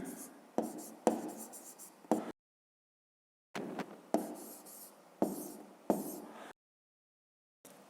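A pen or chalk writes math exercise figures by hand in short scratchy strokes, arriving in bursts with brief silent gaps, close and clear.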